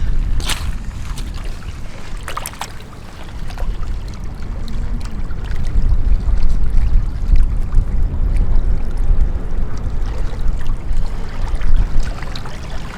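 Water splashing and trickling over a worn find pulled from the river mud, a steady wet rinsing that swells in the middle and carries on for several seconds with no voices.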